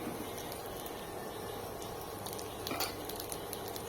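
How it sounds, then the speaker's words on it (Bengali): Taro stolons fry in a pan with salt and turmeric, giving a faint, steady sizzle with occasional light scrapes and clinks of a stirring utensil. "ভালোভাবে লতিকে ভেজে নিচ্ছি"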